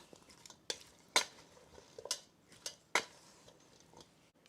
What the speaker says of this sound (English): And then I'm going to add the onions to this. Give this a stir.